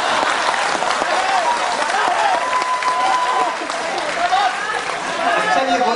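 A seated audience at a live comedy or poetry show claps steadily, with dense applause continuing throughout at a strong, even level. Scattered crowd noise sits beneath it.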